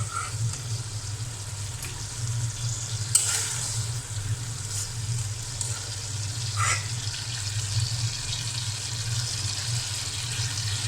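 Hilsa fish and spices fry in a pan with a constant close sizzle, broken by occasional scrapes and clinks of stirring, and no talking.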